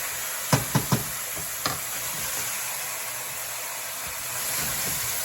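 Crab-stuffing mushrooms cooking in a pan give a steady broad sizzle, with a few sharp knocks of a utensil against the pan near the start.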